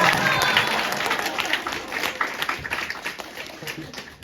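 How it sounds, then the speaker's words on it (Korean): Congregation applauding during a Sunday church service, a full burst of clapping that starts loud and gradually thins and fades, with a voice speaking faintly underneath. "저희 큰 박수 부탁드립니다"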